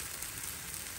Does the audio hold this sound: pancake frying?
yes